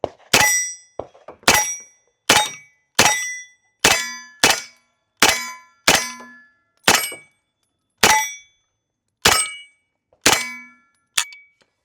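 Kalashnikov KP-9 9mm short-barreled carbine fired at an outdoor range: about fifteen sharp, loud, ringing shots at a steady, unhurried pace, each followed by a brief decaying echo.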